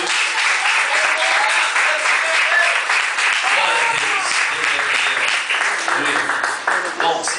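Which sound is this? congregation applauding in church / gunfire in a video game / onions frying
congregation applauding in church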